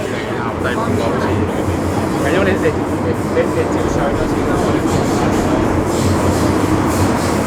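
A Hong Kong metro train rides along with a steady, loud rumble and hum of the carriage and faint rail clatter, continuous throughout, while people talk over it.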